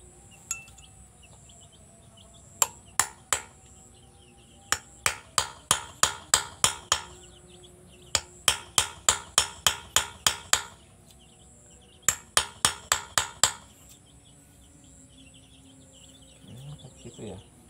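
A hammer strikes a chisel in quick clusters of sharp taps while carving a stamp mold, the bursts separated by pauses, with faint birds in the background.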